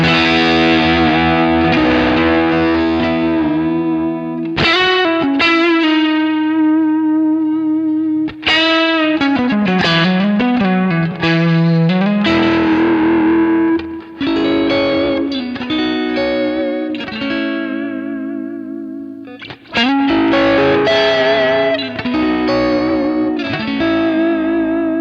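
A distorted electric guitar through a Kemper Deluxe Reverb amp profile, turned to about 8, plays sustained chords and bends with a thick, reverberant tone, loud and alone, pausing briefly between phrases.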